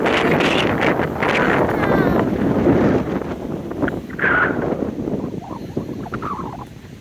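Gusty Wyoming wind buffeting the microphone in loud rumbling bursts, easing somewhat in the second half, with a voice talking briefly underneath.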